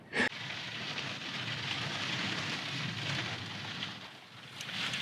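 Rain patters steadily on the outside of a camper van, a soft continuous hiss close by with a brief sharp sound at the start and a slight swell near the end, with no talking.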